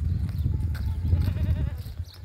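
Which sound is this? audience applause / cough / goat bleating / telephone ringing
goat bleating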